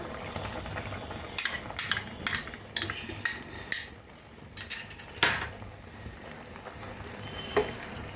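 Cornstarch slurry stirred into a pot of chicken soup, with a metal spoon clinking and scraping against the pot in irregular bursts over a low, steady simmer.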